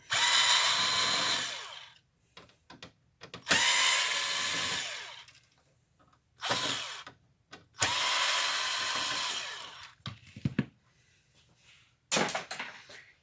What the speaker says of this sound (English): everything that we're doing here is with a T10 size star-shaped screwdriver tip